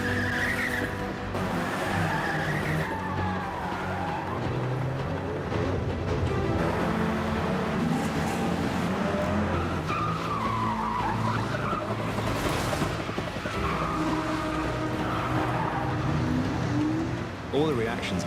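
Car doing handbrake turns and spinning during a film stunt shoot, tires skidding and squealing in a continuous loud stretch, with people talking over the engine and tire noise throughout.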